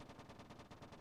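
Anti-aircraft gun firing in a warfare video game, a rapid steady stream of automatic shots pounding continuously at even intervals, dense and loud with no pauses.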